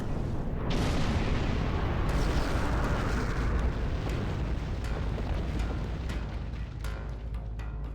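Starship weapons in Star Trek Online unleash a loud, continuous roar of booming blasts and explosions, with crackling bursts layered over a heavy low rumble that fades slightly toward the end.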